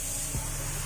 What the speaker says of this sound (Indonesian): Kita langsung semprotkan tanpa pencampuran apapun. Jadi tinggal kita tuang ke dalam spray gun dan semprot saja.